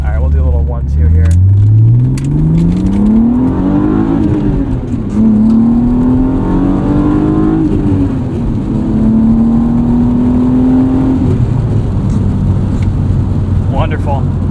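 A 1998 BMW E36 M3 sedan's inline-six pulls hard through first and second gear from inside the cabin, revving up with a rising pitch, dipping at the shift, then climbing again, loud and close.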